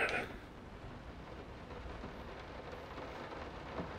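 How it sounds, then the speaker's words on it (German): Rain in the horror video game Layers of Fear, a soft, steady patter of rainfall heard fairly quietly throughout, with a brief sharper sound at the very start. "Boah, ich hasse dieser Regen."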